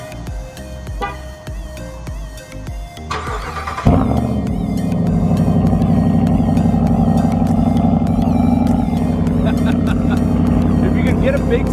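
2019 Ram Rebel truck with a Borla ATAK exhaust cold starting: a brief cranking clatter, then the engine catches with a loud burst and settles into a deep, steady rumbling idle.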